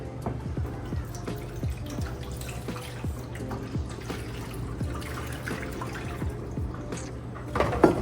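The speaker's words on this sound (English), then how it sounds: "it's gonna be easier to lift this up and just fill up the water that way." Water is poured into a hydroponic system reservoir, giving a steady, fairly close trickle and gurgle with a low hum beneath, ending with a brief louder splash.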